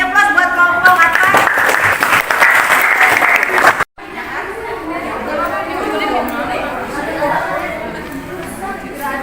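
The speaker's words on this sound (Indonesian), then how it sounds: "Kasih aplaus buat kelompok atas." Audience applause for a group in a classroom coaching session, a dense sustained clapping that stops abruptly, followed by general room chatter and murmuring voices.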